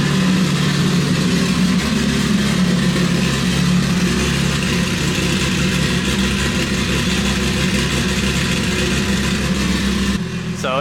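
Nissan Z engine with an open exhaust dump idles loudly and steadily up close, a deep low rumble holding throughout, with a brief change near the end.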